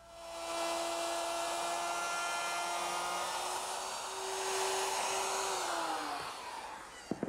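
A power tool cutting a dado for the bottom shelf of a wooden armoire entertainment center, with a loud steady whine that holds for several seconds, shifts pitch slightly, then spins down.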